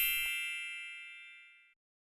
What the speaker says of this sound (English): ringing that notification bell